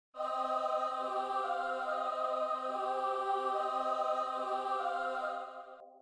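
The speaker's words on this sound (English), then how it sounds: "So we also add another choir" A choir sample for a drill beat plays dry with no effects, one sustained, layered chord holding steady for about five seconds before fading, with no voices speaking.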